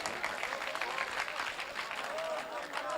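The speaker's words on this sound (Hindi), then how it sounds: "इस्तकबाल कीजिए भरपूर तालियों में हजरत इकबाल साहब का।" An audience claps steadily at a poetry recital gathering (mushaira) in Sandila, India, while a voice keeps talking over the applause.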